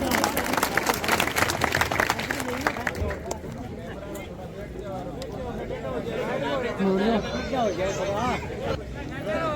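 Crowd applause at an outdoor political rally in a rural Rajasthan panchayat, dense clapping for the first few seconds as a local official is invited up, then fading under a voice and crowd murmur.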